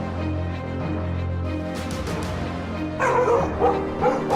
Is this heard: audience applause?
no